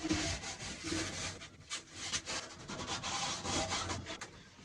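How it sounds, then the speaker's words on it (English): Steady abrasive rasping of a sander working a wooden micro cruiser boat down to the fiberglass, continuous and close with uneven strokes and no talk. "sand that down to the fiberglass"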